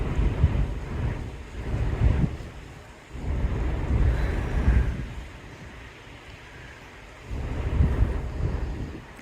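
Waves washing along the shore near the Mackinac Bridge, with surges building and easing in slow swells over steady wind rumble on the microphone.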